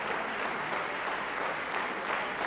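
Steady, dense applause from the audience at a 1993 professional Latin dance competition, a continuous wash of clapping heard alone and fairly far off.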